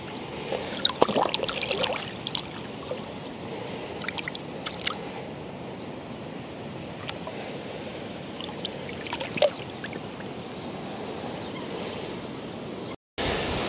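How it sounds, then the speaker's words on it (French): A carp is released back into the water during spawning season, with soft splashing and trickling close by, scattered small splashes and knocks over a steady outdoor background. "Allez, on va la remettre à l'eau."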